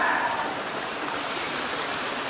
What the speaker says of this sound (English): that's the main tributary of Frosty Creek